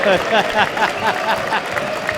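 Spectators at a professional squash match at the Canary Wharf Classic break into brief applause and murmurs after a shot, close and lively, fading out within a couple of seconds.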